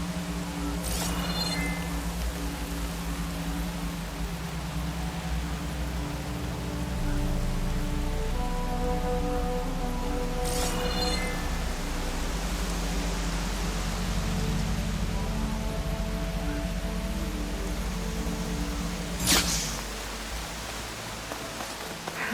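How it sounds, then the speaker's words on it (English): Steady rain pours in an outdoor marsh setting in the video game Horizon Forbidden West, a constant hiss with low rumble beneath, a few louder splashes or gusts breaking through, and faint tonal music layered underneath. "Rain's drowning out any sounds."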